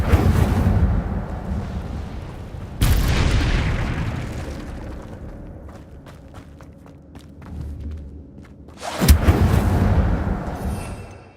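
An Incendio fire spell is cast in Hogwarts Legacy, setting off loud whooshing blasts that roar and then fade. A quieter stretch of ticking and crackling follows before another forceful burst near the end.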